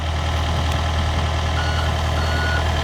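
A mini excavator engine runs at a steady idle-like drone as the machine drives forward, close and continuous, with no speech.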